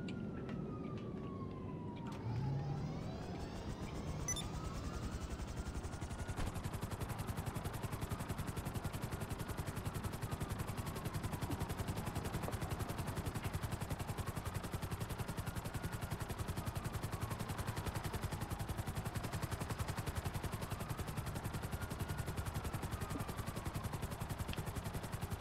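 Frogger helicopter in GTA 5 on PC, a steady whirring rotor drone that runs evenly for the whole stretch, with no talk over it.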